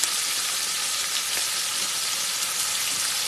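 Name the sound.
round steak sizzling in pan as coffee is added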